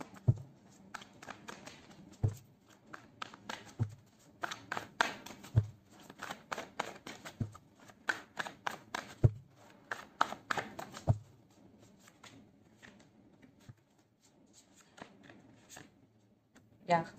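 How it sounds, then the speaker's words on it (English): Tarot cards being shuffled and pulled from a deck, giving repeated soft riffling and sharp slapping taps in irregular bursts, close by, with quieter stretches between and some talking in the background. "So let's pull some cards from universe where this connection is headed on and the outcome."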